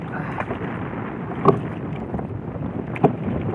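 Steady broadband wind rush, like strong gusts on open water, at a fish corral on the sea, with a couple of brief knocks standing out.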